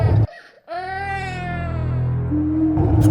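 A child cries in a dramatic television scene, a loud sustained wail with rising and falling pitch after a brief pause, then a short lower cry at the end, with background noise around it.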